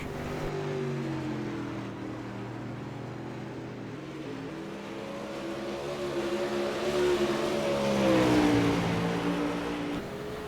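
Dirt super late model race cars run laps on a dirt track during a Monsters of Dirt fixed-setup main event, engines droning and rising in pitch as they accelerate, the roar swelling louder near the end as the pack passes close.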